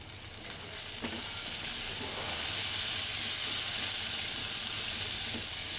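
Kankoda (spiny gourd) frying in a covered pan, a steady close sizzle and hiss with a few faint stirring taps.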